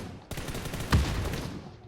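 Gunfire in the mobile battle royale game PUBG New State, a rapid burst of automatic shots cracking close and loud, with one heavier boom near the middle.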